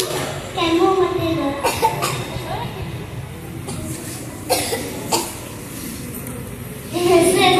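A child gives several sharp, separate coughs spread across a doctor's consultation, mixed in with people talking back and forth nearby.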